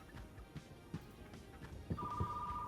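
A telephone rings faintly in a quiet shop, a thin electronic tone that sets in partway through and holds steady over scattered handling clatter and soft thumps.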